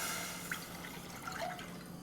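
One and a half cups of water poured into a small pot on a stove, giving light drips and a thin trickle with a few bright splashes, fairly quiet.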